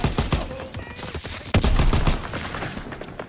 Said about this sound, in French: aide un peu l'artillerie à tirer